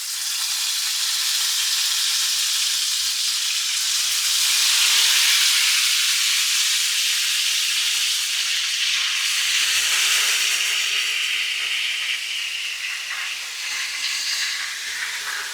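Chicken pieces sizzle and fry in a hot pan, a loud steady hiss of spitting oil that swells and eases over about fifteen seconds, close up with no talking.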